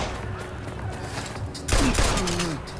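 Gunfire in the open-world game Watch Dogs, a sudden loud burst of several close shots breaking in after a stretch of quieter ambient city noise.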